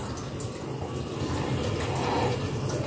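Water poured into a cooking pot of aloo matar keema curry after soy sauce is added, a soft continuous splashing stream close by that swells slightly toward the end.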